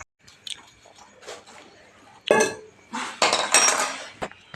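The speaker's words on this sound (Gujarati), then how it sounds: "ધોવે છે વાસણ" Dishes being washed, with ceramic and metal pots and utensils clinking and clattering in irregular bursts, close and fairly loud, alongside faint household background noise.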